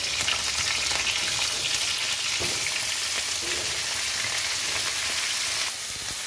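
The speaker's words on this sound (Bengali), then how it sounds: "ভাজবে, একটু নাড়িয়ে চাড়িয়ে নেবো" Cauliflower fries in hot oil in a pan, a steady close sizzle with soft scraping as the pieces are stirred now and then, no voices.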